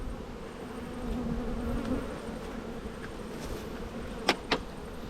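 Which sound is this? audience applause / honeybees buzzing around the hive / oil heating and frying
honeybees buzzing around the hive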